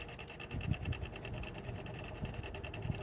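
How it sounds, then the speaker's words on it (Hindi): A sewing machine stitches the side seam of a blouse, its steady rapid needle whir running continuously at moderate level with faint handling noises underneath. "ये जो ब्लाउज़ है वो साइड से मैंने सिलाई कर लिया है"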